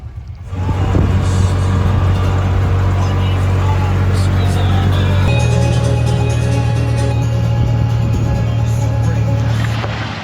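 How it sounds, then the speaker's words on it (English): Congested road traffic on the approach to Lima, Peru, heard from inside a vehicle: a loud, steady low engine hum and road rumble with scattered rattles, continuous throughout, with people talking. "Right, we've been in this traffic maybe 40 minutes."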